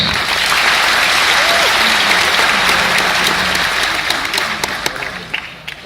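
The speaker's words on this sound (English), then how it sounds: "let's welcome him again with a huge round of applause" Loud, sustained applause from a large audience at a Nobel laureate's speech at North South University, steady at first and then thinning out toward the end.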